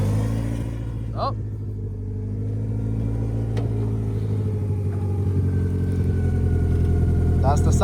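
A fully built turbo Honda GSR engine in a 1993 Civic idles steadily as the idle air control compensates, giving a continuous close mid-pitched rumble with slight wavering in tone and a few faint clicks, and no talking.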